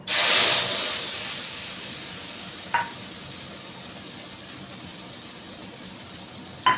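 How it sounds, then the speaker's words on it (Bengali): Mung dal batter hits a hot pan with moringa and asafoetida, giving a loud burst of sizzling hiss that quickly settles into a softer steady sizzle, with a couple of brief clinks from a utensil. "একটু হিং দিয়ে এটাকে একটু নেড়ে এই ঘোলটা, ডালের ঘোলটাকে আমি দিয়ে দিচ্ছি"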